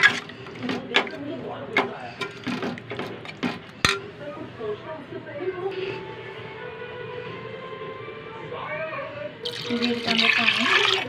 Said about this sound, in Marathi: एक ते दीड तांबे पाणी ॲड केलेलं आहे